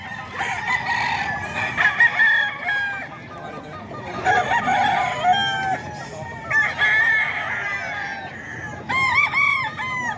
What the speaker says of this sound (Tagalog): Ito yung mga manok nila mga ka-idol.